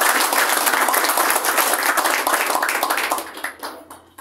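Applause for a group of citizens and leaders at a press conference held by the Vente Venezuela party in Barinas, Venezuela: steady dense clapping from a crowd that thins and fades out toward the end.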